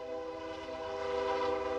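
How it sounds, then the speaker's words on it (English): A train's horn blares steadily in a sustained tonal chord behind R.L. Anderson Stadium during a soccer match, fairly loud and alone for the whole stretch. "As the train goes behind R.L. Anderson Stadium."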